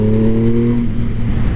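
A 2016 Triumph Speed Triple S motorcycle engine revs up loudly and close with a brief throttle blip, its steady growl easing off over under two seconds, with no voices.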